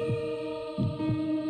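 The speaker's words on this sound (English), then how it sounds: "I think the heartbeat in the background is making it like quite intense" Slow, deep heartbeat thumps pulse in the background of Dementium: The Ward, a hospital horror game, three soft beats over a steady droning hum with no talking.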